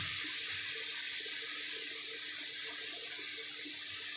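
A small splash of water poured into a pan of spiced potol (pointed gourd) curry with turmeric and coriander powder, a steady soft hiss of running water, faint and continuous, with no talk.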